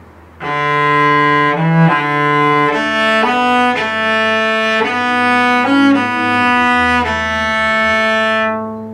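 Twinkle Twinkle Little Star played on a sustained, organ-like instrument, steady notes with brief upper neighbor tones stepping away and back, clear and alone.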